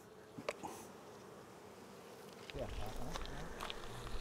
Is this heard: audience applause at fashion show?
no